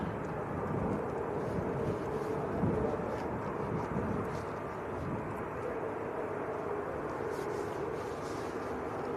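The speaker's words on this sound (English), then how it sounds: "Can see KLM's A321 Neo is taxiing out as well at the moment." A KLM Airbus A321neo taxiing at Manchester Airport produces a steady distant jet engine rumble and hiss that holds at a low, even level throughout, with faint background murmur around it.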